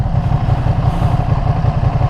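A rare Ducati motorcycle engine runs with a very quiet, muffled exhaust, giving a steady, low, lawnmower-like drone with a rapid pulsing beat, close and continuous.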